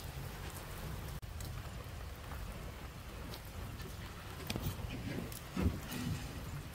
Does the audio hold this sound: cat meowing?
no